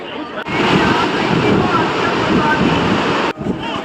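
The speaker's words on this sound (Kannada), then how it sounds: "ಅಲ್ಲಿ ಹರಿಯುತ್ತೆ ನೀರು." River water rushing at a bathing place in Ayodhya, a loud, steady broadband roar of flowing water with some wind buffeting on the microphone, cutting in and out at the edges.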